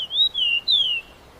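A bird gives two clear, sliding whistled chirps in quick succession, close and bright, then falls silent.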